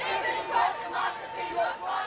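Energetic crowd at a No Kings protest, many voices shouting and chanting in rising and falling swells, a loud massed roar heard from within the gathering.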